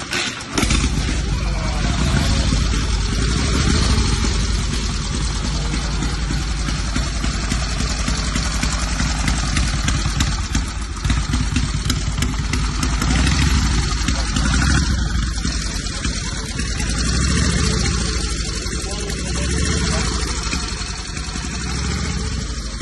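A vintage Von Dutch motorcycle engine runs close by, a loud, rough and steady idle that holds for the whole stretch with little change in level.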